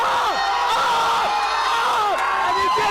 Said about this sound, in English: Lovely support from the crowd